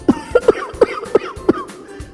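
An old man coughs on a cot in a cold village home, five or six short, rough coughs in an uneven rhythm, close and fairly loud with nobody talking.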